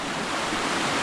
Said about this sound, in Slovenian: Take lepe kaskade na potoku pod kepo.